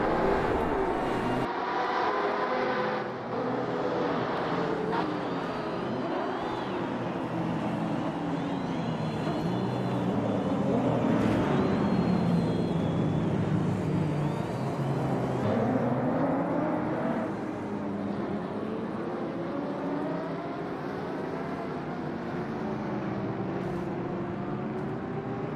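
A Porsche GTE race car engine from the onboard view in Automobilista 2 at the Nordschleife, droning continuously as the revs rise and fall through gear changes over a steady road rumble.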